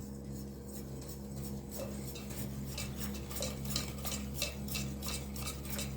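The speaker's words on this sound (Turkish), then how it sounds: "Şimdi güzelce çırpalım" A whisk beats cake batter made with biscuits against the side of a bowl in quick, steady rhythmic strokes, close and fairly loud over a constant kitchen hum.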